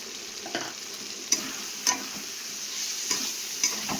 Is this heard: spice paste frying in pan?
yes